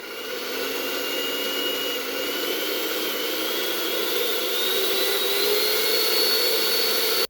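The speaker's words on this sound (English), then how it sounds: "Right here I have a little kitchen mixer." A small kitchen mixer running off a BLUETTI AC50B power station, a steady high motor whine with a faint rising pitch drift, continuous and close with no talk.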